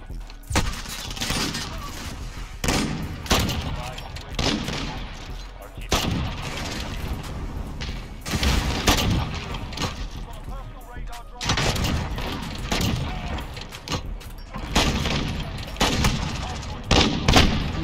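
R700 sniper rifle shots on PC in a first-person shooter, heavy booming reports in irregular bursts mixed with other game gunfire and explosions, loud and close, with a voice talking over the action.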